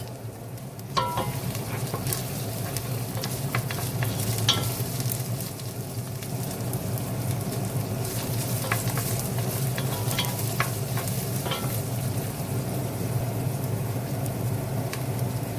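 Chopped onion sautéing in a pan for ginisang monggo with pork and spinach: a steady, close sizzle and hiss of frying with scattered crackles and stirring scrapes throughout, no voices.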